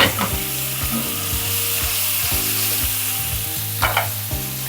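A steak sizzles in a hot pan, a close, steady frying hiss with a few sharper crackles and scrapes running throughout, no voices.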